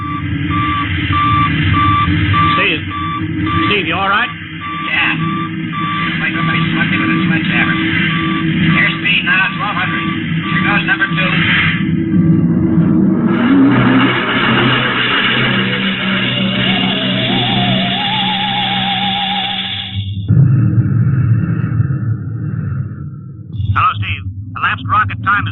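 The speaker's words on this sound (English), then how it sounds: "All right, now I'm advancing the ignition key. Here goes rocket one." A rocket engine ignites and launches in an old-time radio drama, a steady loud electronic roar and whine with shifting tones underneath, voices talking over it near the end.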